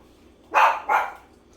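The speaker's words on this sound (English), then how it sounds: "Excuse my dog." A dog in a home kitchen barks twice in quick succession, two sharp, fairly close barks over a quiet room.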